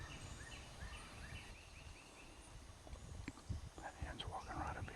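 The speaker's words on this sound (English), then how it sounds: "I know them gobblers are right up there" A wild turkey gobbler on a Tennessee hillside in early April gobbles faintly in the distance, a quick rattling burst followed by soft rustling and movement nearby in the woods.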